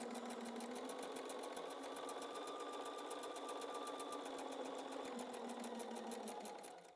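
Sewing machine stitches a straight fabric seam with a fast, even mechanical whir and needle chatter, running steadily and close before winding down at the end.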